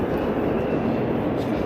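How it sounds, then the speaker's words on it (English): An Amtrak Acela train rumbles at Washington Union Station, a steady, loud, low mechanical drone of the train with no talking. "We're taking the Amtrak Acela today."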